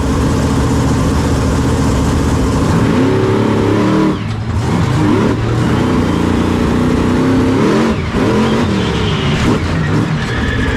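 The 12,000-pound monster truck Backdraft at the Sussex Fair is heard from onboard as a loud, constant engine roar that surges with revving and dips briefly twice as it drives.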